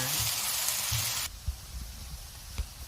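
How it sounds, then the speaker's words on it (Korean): Bean sprouts and green onions hit a hot pan with a loud burst of sizzling that cuts off abruptly after about a second, followed by quieter low scraping and a couple of stirring knocks. "파를 넣습니다. 네, 이렇게 익을 때까지 볶아줍니다."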